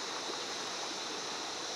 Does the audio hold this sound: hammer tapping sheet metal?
no